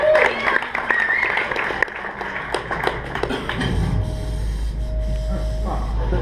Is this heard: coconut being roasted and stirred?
no